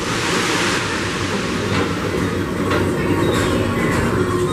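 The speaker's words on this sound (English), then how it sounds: "your express train keeps on rolling through the future" A Magic Kingdom ride train rolls steadily along its track, a continuous broad rumble and hiss with faint wheel clatter and occasional soft squeals, close and unbroken throughout.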